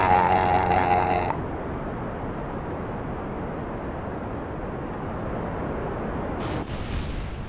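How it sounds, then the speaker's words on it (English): An explosion in the game Kerbal Space Program gives a loud broad blast that settles into a long sustained rumble lasting several seconds, with a brighter crackling burst near the end; no one speaks. "That was a loud explosion."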